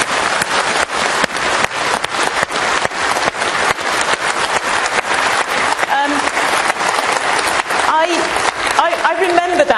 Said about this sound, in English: I also want you to give a warm round of applause to our Sarah.